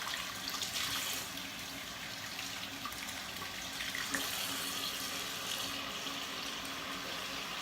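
A bathroom tap runs steadily while a face is rinsed after a shave, with water splashing and gushing in an unbroken close stream, punctuated by small splatters of hands cupping water, and no talking.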